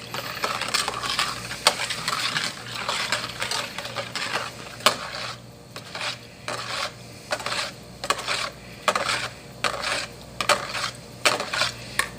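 A solution being stirred gently in a container, giving a run of rhythmic clinking and scraping strokes with brief pauses, close and fairly clear; no talking.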